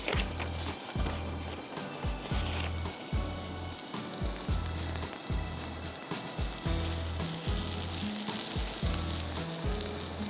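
Onion and cumin frying in a karahi, a dense continuous sizzle with steady crackle, close and loud, with no talk over it.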